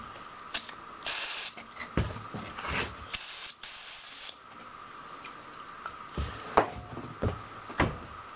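Cleaner sprayed onto a golf cart axle in several short hissing bursts, close up, with clicks and knocks from handling in between.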